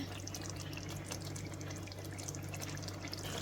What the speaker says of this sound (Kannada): ಅದಕ್ಕೊಂದು ಅರ್ಧ ಕಪ್ಪಷ್ಟು ನೀರು ಸೇರಿಸ್ಕೊಳ್ತಾ ಇದ್ದೇನೆ, ಮಸಾಲೆ ರುಬ್ಬಿದ ಮಿಕ್ಸಿದ್ದು